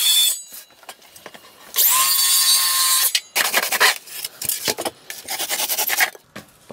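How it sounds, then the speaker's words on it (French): A power saw buzzes loudly through graphite polystyrene insulation in short bursts, with one sustained cut in the middle and choppy stop-start cutting after. "même avec la scie, quand on découpe"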